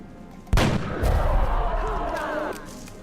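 Gunfire from the XCOM Enemy Unknown video game: a loud, sharp burst of shots followed by a sustained crackling, booming volley that holds steady for about two seconds before cutting off.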